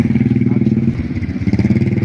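A bodaboda motorcycle taxi rides along with a loud, close engine throbbing in fast regular pulses, dipping briefly midway before picking up again, with a voice faintly underneath.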